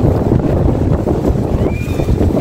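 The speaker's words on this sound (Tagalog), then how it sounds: "Malakas yung hangin ngayon." Heavy wind buffets the microphone in loud rumbling gusts at a beach, with rough surf and water noise churning underneath.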